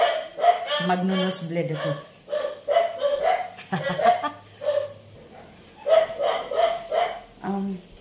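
Several pet dogs bark repeatedly in short, sharp bursts, sometimes overlapping, close by while a person keeps talking over them.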